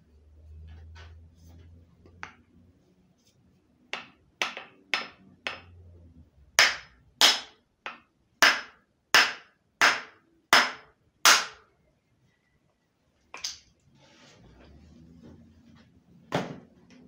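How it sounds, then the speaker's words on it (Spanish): Sharp hammer blows strike a clamped piece of wood in a series, a few scattered hits followed by a rapid run of about eight loud, evenly spaced knocks, then quiet. "voy a pegarle con un martillo a ver cómo aguanta."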